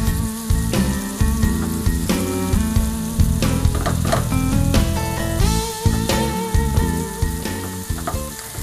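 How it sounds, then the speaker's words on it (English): Sausages fry in a pan, a loud, dense, continuous sizzle and crackle with scraping and stirring clatter from turning them, with no talk. "Just gonna turn the sausage a little bit."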